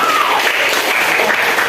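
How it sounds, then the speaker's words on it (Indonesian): A class applauds together, a brisk continuous patter of many hands at close range, loud and even for a short burst, with faint voices mixed in. "Silakan tepuk tangan buat kalian."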